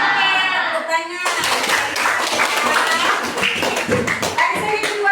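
A class of schoolchildren bursts into rapid, scattered hand clapping that continues for several seconds, following a teacher's speech and mixed with children's voices.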